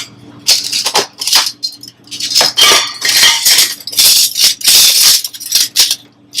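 Metal tongs and deli salad serving spoons clatter and clink as they are set into containers at a sandwich station, a run of close, bright, irregular metallic rattles and knocks with short pauses between.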